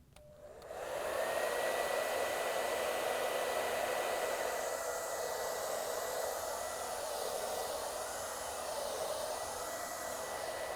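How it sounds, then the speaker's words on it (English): A blow dryer runs continuously at close range as it heats a GE refrigerator's fresh-food door gasket, switching on with a quick rise and then holding a steady, loud whoosh with a constant hum. "We're going to use the blow dryer to heat the gasket in any uneven areas."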